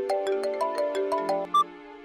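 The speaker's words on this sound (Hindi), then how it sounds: "एक्सक्यूज मी, एक फोन आ गया।" A phone ringtone plays for an incoming call in a Hindi drama scene: a short, bright melodic jingle of quick repeated notes, clear and unaccompanied by speech.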